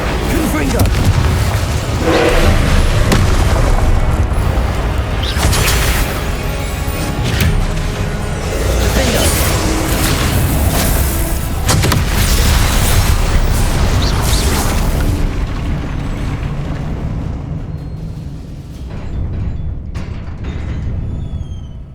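Spell-casting explosions from the Hogwarts Legacy video game during the Percival Rackham trial: a dense run of booms, bursts and crashes packed over a loud game soundtrack, tailing off near the end.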